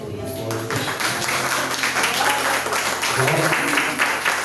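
A church congregation at a Sunday service claps together in dense, sustained applause. Voices and musical tones run underneath it throughout.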